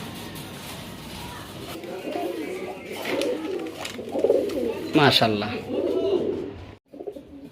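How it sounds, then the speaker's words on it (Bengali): Black fillback fancy pigeons, a running pair kept for breeding, coo in low soft rolling phrases close by, under steady speech from a man. "মাশাআল্লাহ অসাধারণ একজোড়া কবুতর আছে, ফিলব্যাক, ব্ল্যাক ফিলব্যাক, রানিং পেয়ার"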